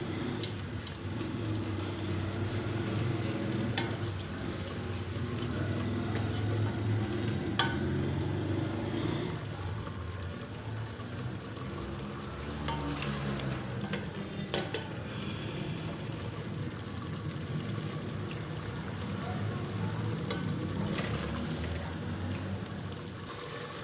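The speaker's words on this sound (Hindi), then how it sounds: "ये देखिए हमने कचनाली को 5 से 6 मिनट भून लिया है।" Kachnar (orchid tree buds) frying and being stirred in a pan, a continuous dense crackling sizzle with scraping stirs running the whole length, close and steady, with no voices.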